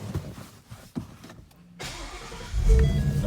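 A 2016 Ford Mustang GT Premium with a 6-speed manual cranks briefly after a few interior clicks, then fires up and settles into a loud, deep rumbling idle, close by with no voices.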